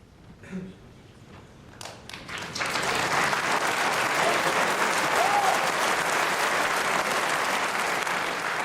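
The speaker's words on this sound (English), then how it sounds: "I just have a feeling the crowd are going to clap" Applause from the audience at the final of the 1994 snooker world championship starts with a few claps, then swells into loud, steady clapping that fills the hall and carries on to the end.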